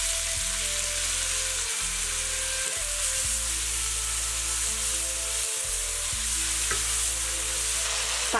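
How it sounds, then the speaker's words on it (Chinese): Green beans stir-frying in a wok with salt, soy sauce and oyster sauce, a loud continuous sizzle under a low steady hum, with occasional scrapes of the spatula. "把豆角炒的这种变色变软，撒上蒜末，搅拌均匀就可以出锅了。"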